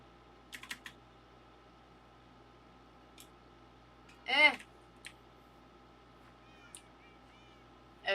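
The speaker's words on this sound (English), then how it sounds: "I hear all the cats." Minecraft cats meowing on a multiplayer server: a few short mews scattered over a quiet low hum, with one clearer, louder meow near the middle and soft clicks around it.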